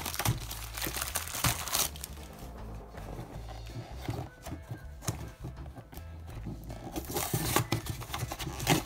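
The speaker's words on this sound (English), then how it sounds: "the plastic is really hard to get out of these boxes sometimes" Crinkly plastic wrapping is pulled and torn off a small One Piece mystery mini box, in irregular close crackles and rustles, loud near the start and end with quieter handling between.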